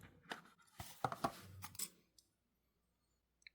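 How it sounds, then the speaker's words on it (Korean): A genuine-product sticker from a desktop PC box is peeled off and pressed into place: brief crackly peeling and tapping sounds close by for about two seconds, then near silence with one faint tick. "상자에 있는 정품 스티커 붙여줄게요"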